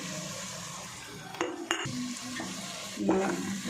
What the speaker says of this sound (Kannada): ಹಸಿ ಶುಂಠಿ ಏನು ತುರಿದು ಇಟ್ಕೊಂಡಿದ್ದೆಲ್ಲ ಅದನ್ನು ಹಾಕ್ತಾಯಿದ್ದೀನಿ